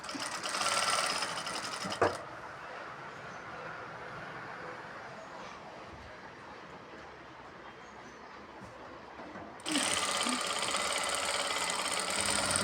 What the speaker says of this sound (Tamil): இதை ஒட்டி தான் ஓவர்லாக் நீங்கள் அடிச்சிங்கன்னா பேலன்ஸ் தேவையில்லாத துணி வந்து வெட்டி எடுத்துடும்.